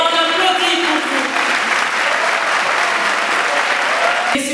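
Loud, sustained audience clapping at a closing ceremony in Pointe-Noire, dense and continuous before cutting off abruptly at the end.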